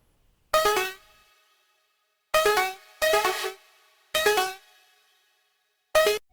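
Synth pluck counter melody from an electronic production: five short, bright, plucked notes in an uneven, sparse rhythm, each decaying quickly, with silence between them and no other instruments.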